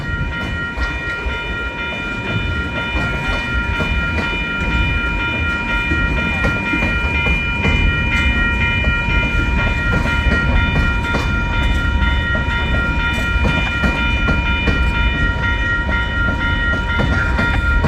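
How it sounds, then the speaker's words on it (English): A railroad service car rolls along the tracks in St Paul, with a loud, continuous rumble, rhythmic wheel clatter and a high sustained squeal or horn-like tone, close and steady throughout. "A railroad service car thing."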